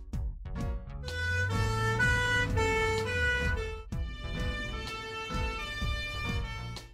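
Fire truck siren in a children's vehicle color cartoon, a loud wailing tone over a low sweeping horn, with rhythmic music beats throughout and no talking.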